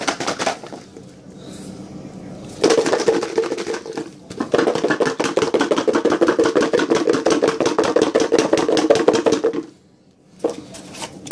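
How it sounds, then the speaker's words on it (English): Garlic cloves crushed under a knife on a chopping board for lamb shank soup, a loud rapid run of sharp knocks and thumps in two long bursts, close and with no speech. "What it does is it bruises the garlic."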